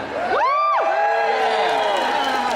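A convention crowd cheers and whoops in a large hall, with loud sustained shouts and rising-falling yells from many voices together.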